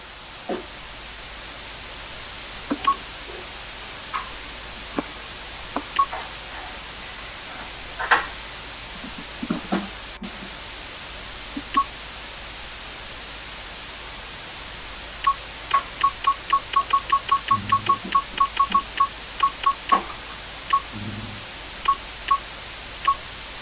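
In Commander '85, a telephone line carries scattered clicks and tones that build into a rapid series of dialing beeps, with later pulses and bursts over steady hiss and line static, heard alone without talk.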